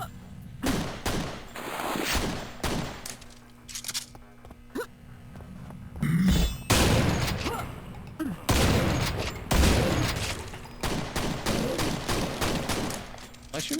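Gunfire in Quake, repeated loud shots and bursts scattered across the stretch with brief gaps between volleys, and occasional voice heard among the shots.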